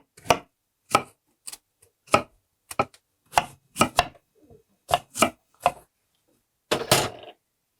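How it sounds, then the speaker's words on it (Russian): A knife chops apples into cubes on a board in a dozen or so sharp, evenly paced strokes, with brief pauses between cuts. "Нарезали мы яблоки."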